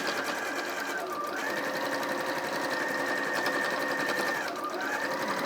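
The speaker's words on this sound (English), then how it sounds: "I'm going to tack across the bottom of them with the machine to hold it all in place." A sewing machine stitches a tack across the bottom of a fabric tote bag. It runs with a fast, steady mechanical whirr that pauses twice briefly. It sounds close and continuous.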